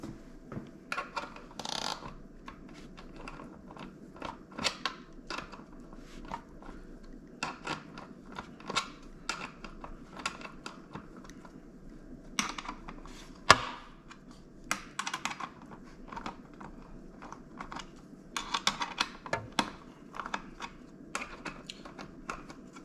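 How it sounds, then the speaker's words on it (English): Old screws being taken out of the bottom of a GE stove during repair, a long run of small irregular metallic clicks, ticks and rattles, close and fairly quiet, with no talking. "Now I'm going to take the old screws out the bottom of the other one."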